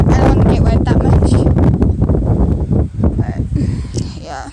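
Strong gusty wind buffeting a microphone outdoors in the rain, loud broadband roaring that surges and fades, with a voice talking over it.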